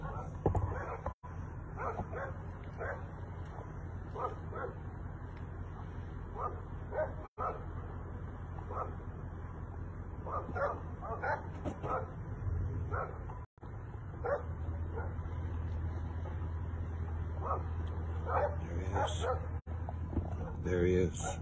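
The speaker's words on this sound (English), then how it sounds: "Dogs are going crazy." Several dogs bark in repeated bursts near Fort Nelson, British Columbia, some yipping excitedly, against a constant low hum, with people talking intermittently.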